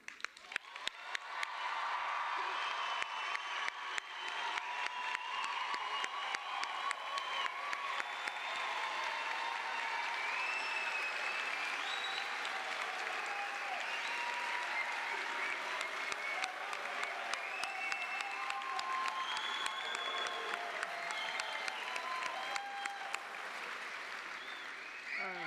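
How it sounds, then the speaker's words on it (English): A theater audience applauds an incoming medical school class at a white coat ceremony, steady dense clapping sustained for the whole stretch, loud and close, with scattered cheers woven through. "I want to just take a minute and give this incoming class a huge round of applause"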